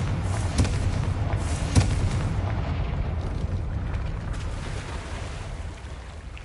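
A Confringo blasting spell bursts in Hogwarts Legacy, giving a couple of sharp booming impacts early on, then a steady rumbling roar that slowly fades.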